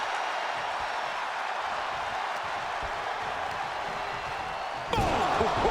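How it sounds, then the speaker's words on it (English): In the WWE 2K24 wrestling game, an Irish whip in a casket match ends in a sudden loud slam against the ring, rising out of steady arena crowd noise near the end. "Strong Irish whip. And did you hear the impact of that?"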